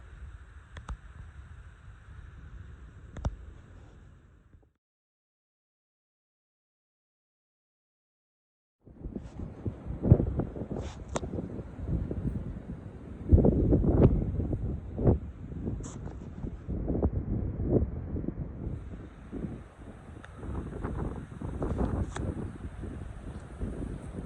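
Gusty wind on a mountain buffets the microphone in rough, uneven bursts, dropping out briefly before returning stronger and steadier for the rest of the clip.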